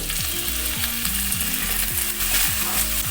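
Continuous close-up sizzle of onions frying in a pan, with a rhythmic scraping stir repeating every half second or so.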